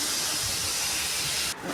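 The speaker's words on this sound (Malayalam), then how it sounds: "കുക്കർ അടച്ച് വെച്ച് ഒരു 6 വിസിൽ വരുമ്പോൾ ഓഫ് ചെയ്തതിന് ശേഷം നമുക്ക് വേവ് നോക്കാം." Steady loud steam hiss from a pressure cooker whistle venting while mutton curry cooks Kerala style, continuous and close for most of the moment, then cutting off abruptly near the end.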